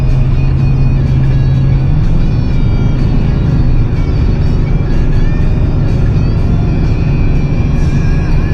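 A 24-year-old 8.1-litre gas V8 truck engine towing 18,000 pounds on mountain roads, giving a loud, steady low drone with road rumble throughout and a slight shift in pitch as the throttle is eased around a corner.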